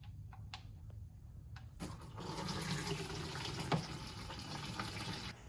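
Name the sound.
transmission fluid draining from pan into clean bucket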